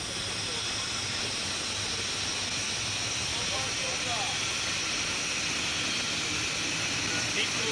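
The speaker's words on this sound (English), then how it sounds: "Surface, blow forward main ballast." A submarine blows its main ballast tanks while surfacing, a steady, loud rushing hiss of compressed air that holds constant throughout, with faint voices beneath.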